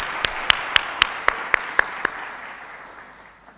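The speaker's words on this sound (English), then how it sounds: "I think we need a clap for those young ladies before they even come." An audience at the Women and Girls in Cyber Conference in Lilongwe, Malawi, claps in about eight sharp, evenly spaced beats that fade into the quiet hall.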